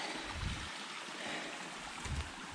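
Running water of a small stream beside a mountain trail, a faint continuous trickle and wash heard from nearby, with low rumbling wind or handling bumps underneath.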